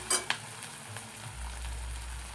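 Onions and green chillies frying in a pan of oil while making Maggi noodles, a steady low sizzle with a couple of sharp stirring clinks near the start.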